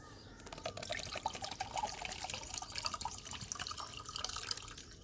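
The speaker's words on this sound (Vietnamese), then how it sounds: "Thấy chưa, trái dừa bình thường đó, đụng vô là nó bắn nước ra liền." Water pours and splashes out of a freshly cut regular coconut as a steady, fizzy trickle with dripping, continuous for several seconds at moderate loudness.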